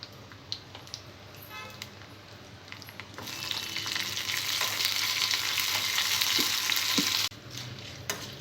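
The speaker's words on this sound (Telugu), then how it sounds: "ఆయిల్ వేడైన తర్వాత ఎండుమిర్చి, కొద్దిగా మినప్పప్పు, కరివేపాకు వేసుకోవాలి." Dry red chillies, urad dal and curry leaves dropped into hot oil set off a loud, hissing sizzle that swells and holds steady for several seconds before cutting off sharply, with light clinks of stirring around it.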